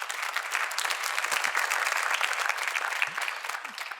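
An audience at a live corporate event claps steadily in dense, sustained applause, close and full throughout, with a few faint voices mixed in.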